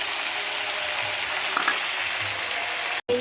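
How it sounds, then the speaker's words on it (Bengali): Spices sizzle steadily in hot oil in a pan as they are sautéed for a vegetable curry made with gram flour, a close, even hiss with faint stirring before a brief cut at the end. "এর মধ্যে মশলাটা দিয়ে একটু কষিয়ে নেব"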